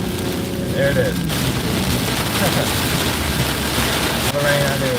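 Heavy rain during a storm chase amid flood and tornado weather in Arkansas, Louisiana and Mississippi makes a dense, steady roar mixed with wind, with voices talking underneath.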